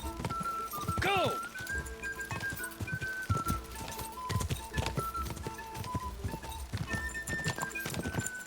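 Hooves gallop steadily on horseback in the medieval video game Kingdom Come: Deliverance II, with a whinny near the start, game music and excited shouting over the rhythmic clip-clop.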